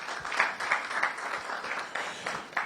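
An auditorium audience at the launch of a national science and maths quiz championship gives a steady, moderately distant round of applause, a dense wash of many hands clapping at once.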